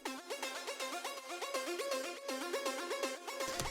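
Melodic techno synth notes drenched in echo set very wet, a quick repeating rising and falling pattern of bright tones with ethereal trails, fairly quiet and alone.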